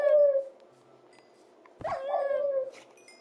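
A dog in a video game gives a drawn-out whimper, falls quiet, then lets out a sharp yelp followed by a rising, wavering howl, close and clear.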